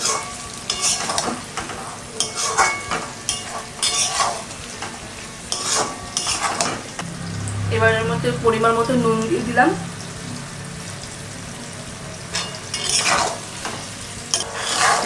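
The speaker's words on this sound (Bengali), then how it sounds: "এবার আমি চিলি ফিশগুলো দিয়ে দেবো। এবার এটাকে একটু ভালো করে একটু নাড়াচাড়া করবো।" Katla chilli fish pieces frying and being stirred in a pan, a steady sizzle with scraping strokes throughout, while a voice talks over the cooking.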